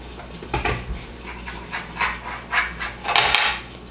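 A knife cuts through a pan of brownies in short rhythmic strokes, each a scraping crunch against the pan, close up and fairly loud, with no talking.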